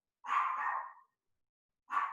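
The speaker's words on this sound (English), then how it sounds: "Sorry for the dog in the background." A dog barks in the background, two separate loud bursts with a pause between them and no talk over them.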